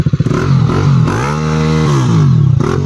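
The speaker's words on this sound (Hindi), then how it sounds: "एग्जॉस्ट चेक आउट कर रहे हैं भाई" A TVS Apache 160 motorcycle with an aftermarket exhaust revs up close and loud, rising and falling through a couple of throttle blips with a burbling idle at either end.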